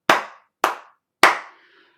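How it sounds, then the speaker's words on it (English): Three sharp hand claps made to sync separate audio recordings, two close together and a third after a short pause, each loud and crisp with a quick decay and no voices. "the trick was to give 3 defined claps"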